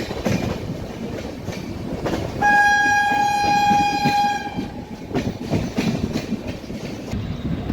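The Kacheguda–Bhagat Ki Kothi Express pulls out of Purna Junction with a loud, sustained horn blast lasting about two seconds, over the rumble and rhythmic clatter of the rolling train.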